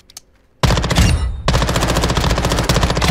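Rapid automatic gunfire from an MPX PCC in Modern Warfare II, loud and close. A brief burst is followed by a pause, then a longer sustained string of fast, evenly spaced shots.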